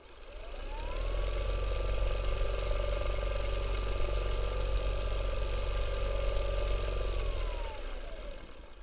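EEW 5.2 electric spinning wheel motor winds up smoothly to maximum speed, holds a steady whirring hum with a constant tone, then winds back down, close and fairly quiet.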